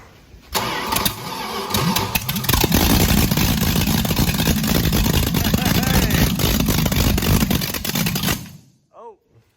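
Engine of a Mini Duster project car with open zoomie exhaust headers, starting up and then idling and revving loudly with a rough uneven rumble close by, cutting off at the end, with voices speaking over it.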